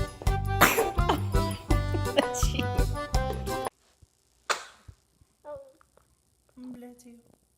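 Upbeat music plays and then cuts out, followed by a baby's single sharp sneeze and a few small vocal sounds from the child in a quiet room.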